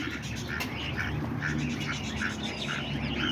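Ducks quack repeatedly in short, nasal bursts over a steady backyard background hum, fairly close and moderately loud, with no talking.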